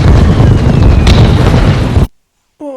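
Bombing explosion in the Band of Brothers war series, a loud, dense roaring blast sustained for about two seconds before cutting abruptly to silence.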